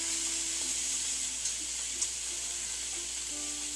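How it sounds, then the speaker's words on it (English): Mussel juices sizzle and hiss steadily on a hot skillet, a continuous close frying sound with a few faint pops and clicks. "The juices run down on the hot skillet."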